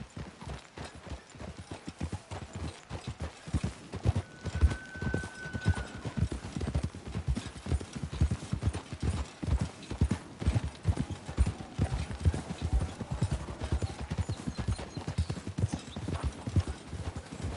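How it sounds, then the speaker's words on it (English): Several horses clip-clop steadily on the ground in the video game Red Dead Redemption 2, a continuous close rhythmic hoof patter with a brief whinny and faint mechanical creaks. "We should leave the horses."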